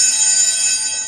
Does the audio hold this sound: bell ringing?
yes